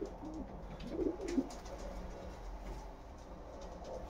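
A racing pigeon coos softly in a loft, a couple of low calls near the start, then quiet background.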